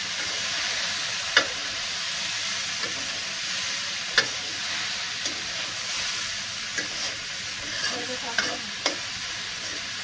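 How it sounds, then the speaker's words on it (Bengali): A seasoned chicken mixture sizzles steadily in a hot pan as it is stirred, with a constant frying hiss broken by a few sharp clicks and scrapes of the utensil against the pan. "টেস্টটা অ্যাড করার পরে কিছুক্ষণ এটা একটু নাড়িয়ে নিন।"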